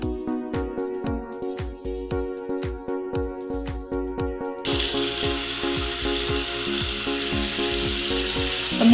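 Water runs at a bathroom sink while makeup brushes are rinsed, first rhythmic splashing and tapping against the basin, then a steady broad rush of flowing water.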